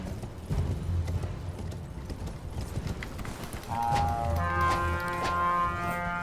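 Horse hooves clip-clopping in the Elden Ring video game, a steady galloping rhythm under game music that swells in the second half, with faint talk at the start.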